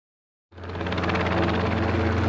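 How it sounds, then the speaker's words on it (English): A helicopter roars in abruptly after half a second of silence at an airport, its steady rotor thrum and engine whine loud and close, with wind buffeting the microphone. "It's a helicopter."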